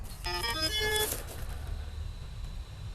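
An Autel EVO II drone controller powers up with a short rising sequence of electronic chime tones, clear and close, that lasts about a second before fading into quiet background hiss.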